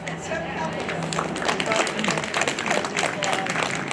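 Audience at a Los Angeles County district attorney candidate forum applauds steadily throughout, a dense clapping wash mixed with crowd noise and talk beneath it.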